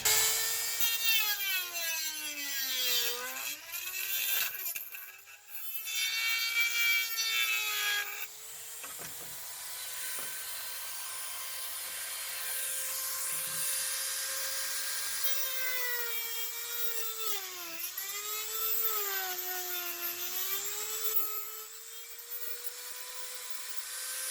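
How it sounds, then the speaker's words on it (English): A rotary Dremel tool cuts through a plastic shell, its high whine rising and falling in pitch as it bites and grinds. Loud and close, with no talking. "We have the rotary Dremel."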